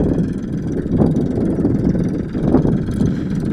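A Farmtrac 42 Pro Max tractor with a three-cylinder engine idles close by, a steady low, throaty rumble with slight pulsing and no one speaking.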